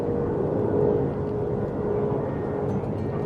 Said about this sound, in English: There's an airplane overhead.